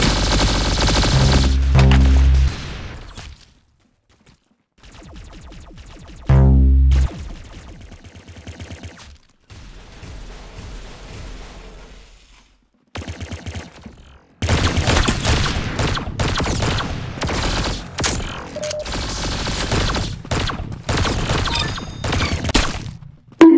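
Rapid bursts of gunfire from the Roblox Arsenal shooter game, loud and dense, broken by short pauses and stretches of other game sounds.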